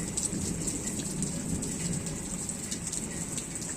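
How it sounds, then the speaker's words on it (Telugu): Heavy, unexpected rain pours down in a constant loud hiss of drops hitting surfaces, with a dense, even texture and no pauses. "వెళ్దాం అనుకునే పాటికి ఇలాంటి వర్షాలు వచ్చేసినాయి అండి"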